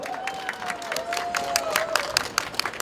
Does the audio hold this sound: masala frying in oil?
no